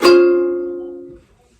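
A single guitar chord strummed once, its notes ringing together clearly and sustaining for about a second before cutting off, with no talking.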